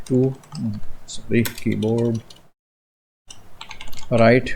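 Computer keyboard typing clicks along under someone talking, followed by a short pause and more speech.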